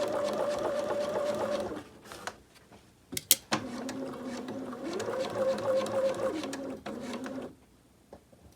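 A sewing machine runs along a trouser back pocket in two quiet, steady whirring stretches, split by a pause with a few sharp clicks and taps.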